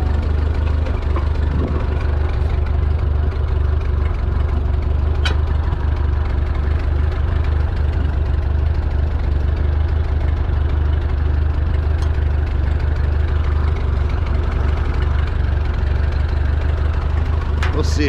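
A 1952 Ford 8N tractor engine runs continuously with the PTO engaged for field cutting, a loud, steady low rumble with a rough knocking texture and occasional clanks, heard up close under some speech.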